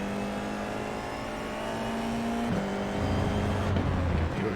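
A Formula F4 race car in iRacing at Rudskogen pulls hard out of a corner, its engine note climbing steadily and then dropping briefly with a gear change before rising again, loud and continuous with no talk over it.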